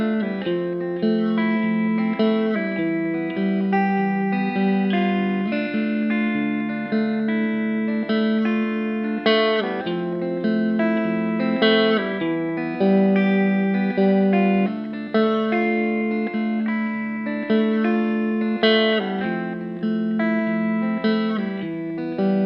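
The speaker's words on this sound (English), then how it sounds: "So here's the guitar in isolation." Electric guitar played on its own through an Earthquaker reverb pedal, with steady ringing chords in a spacey wash of reverb and a touch of dirty distortion, sustained and continuous throughout.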